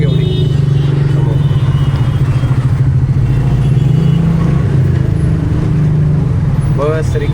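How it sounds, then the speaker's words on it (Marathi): Heavy road traffic rumbles near a station where buses and auto-rickshaws gather, a constant loud low engine drone with clattering and a brief horn-like tone near the end, voices talking faintly through it. "ट्रॅफिक बघा केवढी समोर."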